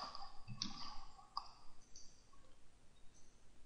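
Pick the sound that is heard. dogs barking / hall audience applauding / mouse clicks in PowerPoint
mouse clicks in PowerPoint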